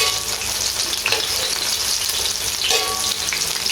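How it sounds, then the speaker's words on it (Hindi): Peshawari chapli kebabs fry in oil on a flat griddle, giving a continuous close, loud sizzle and crackle with a few brief bursts of spattering, heard alone without voices. "कबाब माशाल्लाह से हमारे इधर फ्राई हो गए हैं।"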